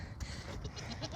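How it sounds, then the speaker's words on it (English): A small young goat on a large goat farm bleats nearby, a few short wavering calls over steady low farmyard rumble and background noise. "This little goat right here."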